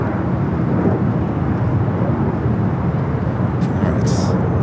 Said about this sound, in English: Next arrival on the north side is Southwest flight 4747 coming up from Phoenix